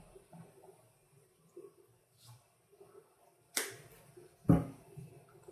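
Liquid from a bottle poured over raw chicken wings in a kitchen: a couple of short splashy pours, the second louder and fuller, with quiet handling noise between.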